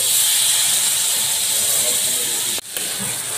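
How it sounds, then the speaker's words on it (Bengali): Water poured onto spices frying in a pan throws up a loud, sustained steam hiss, close by, that cuts out briefly near the end and then resumes. "এখন কষানোর জন্য আমি একটু পানি ইউজ করব"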